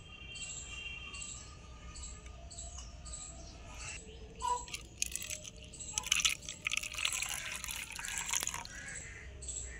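Water poured over toy dolls in a small toy bathtub, with soft splashing and trickling that grows busier in the second half, over a quiet background of high chirping.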